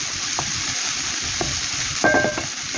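Ginger and other aromatics sautéing in a pan for a ginataang fish fillet: a steady close sizzle with a few light scrapes, then a brief clatter of stirring near the end.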